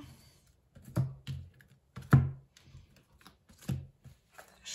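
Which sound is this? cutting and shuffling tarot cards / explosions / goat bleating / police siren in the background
cutting and shuffling tarot cards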